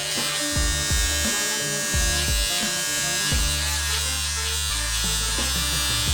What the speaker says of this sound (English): So I'll start with an electric razor.